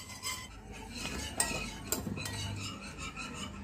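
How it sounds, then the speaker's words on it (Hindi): A utensil stirs a caramel dessert mixture in a pot, with close, quiet scraping and light metallic clinks at a steady pace and no talking. "अब इसको लगातार हिलाते रहना है, रुकना नहीं है इसको"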